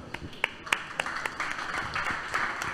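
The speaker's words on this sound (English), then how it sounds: "Let's give him a round of applause." An audience applauds a guest on a football business panel with a brief, moderate patter of scattered claps in a room, swelling slightly toward the end as a voice speaks over it.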